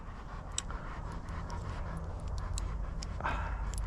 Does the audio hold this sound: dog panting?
yes